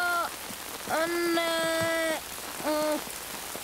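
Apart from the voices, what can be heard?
rain falling in a cartoon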